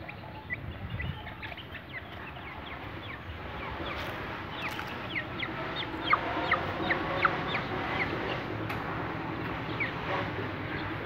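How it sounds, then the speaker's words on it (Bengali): A flock of crossbred tiger and brown cock chickens on a farm, clucking and chirping in overlapping calls that grow busier over several seconds, with steady background murmur and no talk. "টাইগার মুরগি এবং ব্রাউন ককের ক্রস ব্রিডের কারণে এটা সাদা হয়ে গেছে"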